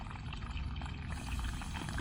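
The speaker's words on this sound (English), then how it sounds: "if you want to manually turn your water on," Water rushes steadily from an outdoor hose line as a Rainpoint two-zone water timer is switched on by hand, producing a continuous, fairly loud broadband flow with no talking.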